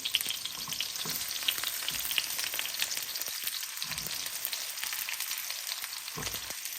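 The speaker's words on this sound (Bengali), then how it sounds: "এখন আমি পেঁয়াজ দিয়ে দেবো।" Chopped onions go into a hot pan already sizzling with minced garlic, giving a continuous bright crackling fry with occasional stirring scrapes and low thumps, steady and close, with no voices.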